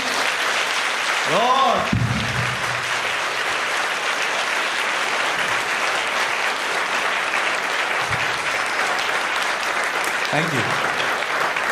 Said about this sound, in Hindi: क्या हम उसके लिए एक अच्छी ताली बजा सकते हैं?